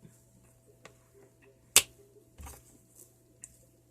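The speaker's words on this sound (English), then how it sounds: "I'm going to snap my fingers and get to do that." A single sharp finger snap cracks out near the middle, close and distinct, with a few faint ticks and rustles around it over a quiet room hum; no talking.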